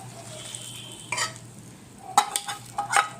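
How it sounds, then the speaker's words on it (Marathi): Hot tadka tempering is poured into sabudana chaat and stirred in: a faint hiss, then short sizzling bursts and light clinks of a spoon against the dish. "हा तडका यामध्ये टाकायचा आहे।"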